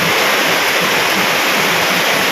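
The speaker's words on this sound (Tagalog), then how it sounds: "Walang tigil ang ulan." A loud, unbroken roar of pouring rain, thick and constant like water rushing down close by.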